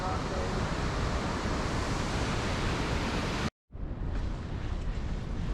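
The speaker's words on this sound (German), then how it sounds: "Ah, cooler Wasserfall." A waterfall in Canada roars as a dense, steady broadband rush, loud and continuous, briefly cut off by a short silence before resuming slightly softer.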